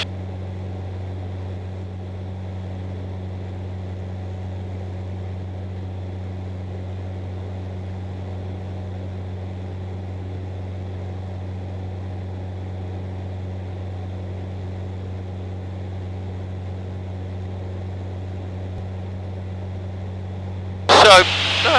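Steady, droning engine noise of a training aircraft in flight, heard from inside the cabin as a constant hum throughout, with a brief sharp burst at the very end.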